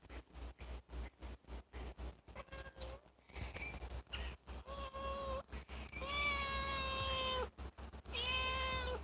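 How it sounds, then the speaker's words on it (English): A cat meows repeatedly, long drawn-out cries close by, with rustling and handling noises between them. "Look, so many meows."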